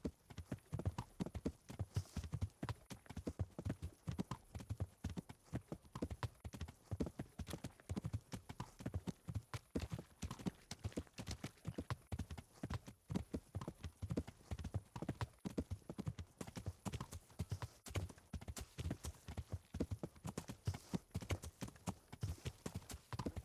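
Horse hooves clip-clop steadily as a rider travels in the medieval video game Kingdom Come: Deliverance, a continuous, even rhythm at moderate distance with faint background ambience.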